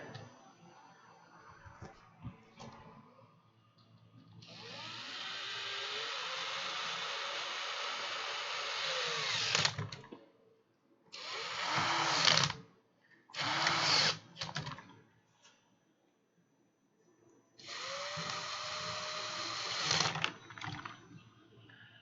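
A power driver with its torque set low runs in several short whirring bursts, spinning screws into a Prusa i3 MK3 clone 3D printer frame, with quiet pauses between bursts in a calm room.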